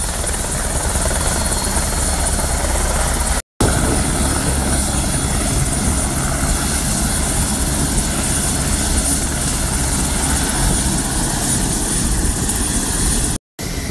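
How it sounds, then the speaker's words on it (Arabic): A red helicopter flies overhead, its steady loud rotor drone running continuously for the whole stretch with two brief cut-outs. "هليكوبتر مالهم لونه حمر"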